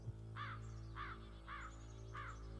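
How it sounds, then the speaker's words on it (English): Four loud crow caws in a video game, evenly spaced about half a second apart, ringing over a steady low hum of background music. "Bird noises."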